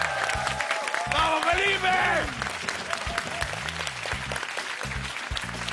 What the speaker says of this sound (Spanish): Aplausos para el equipo naranja